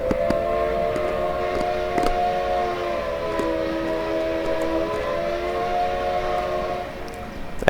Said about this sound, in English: That is one of the best steam locomotive whistles in the game